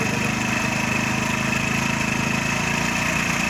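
A Hero Splendor Plus motorcycle engine idles steadily up close during air screw adjustment, a continuous even putter with no speech.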